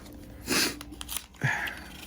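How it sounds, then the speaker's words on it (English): A few quiet, close sniffs spaced out over a couple of seconds, with no talking. "Pardon my sniffles."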